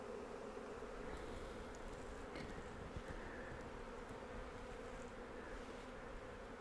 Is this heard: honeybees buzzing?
yes